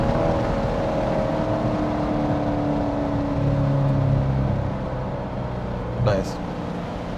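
A C7 Corvette with a manual gearbox rumbling as it downshifts, a steady low engine drone with a brief rising rev blip near the end, heard from close by under a voice talking.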